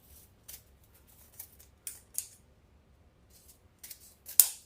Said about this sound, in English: You're going to cut it off the roll, and then you're going to cut the folded part of the ribbons.